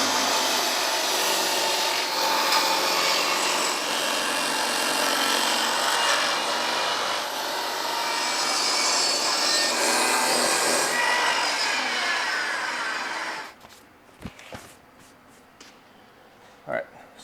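A power saw cuts wood strips for a farmhouse-style window frame, a loud, steady whining rasp up close that runs for about thirteen seconds before it stops abruptly, followed by a few knocks and quiet talk.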